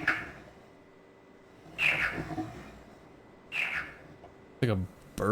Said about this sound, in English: That sounds like a bird, right?